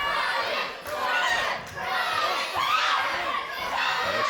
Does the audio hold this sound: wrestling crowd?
yes